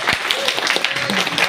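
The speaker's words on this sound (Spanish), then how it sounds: "un aplauso por favor" Audience clapping at the close of a round-table discussion on the Second World War, a short steady burst of moderate applause with some voices underneath.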